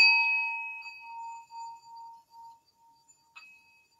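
A stick circles the rim of a small resonant bowl, drawing out a sustained ring that wavers and pulses as it gradually fades, with a light clink near the end.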